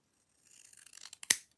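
Scissors snipping through paper during stamp-set card crafting, a quick close run of soft cutting rasps that ends in one sharper snip, faint and with no talking.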